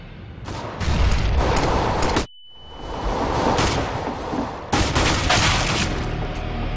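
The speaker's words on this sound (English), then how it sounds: "No, he shot me through the wall." Rapid gunfire in a CS:GO match, with loud clattering shot bursts, a sudden drop to near silence, then more shots and a final dense volley.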